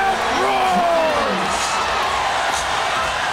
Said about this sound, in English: And listen to this crowd roar.